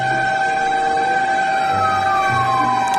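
A fire engine siren wails in a steady, continuous tone with a slowly falling pitch sweep, loud and persistent against a background of traffic rumble, with no one talking.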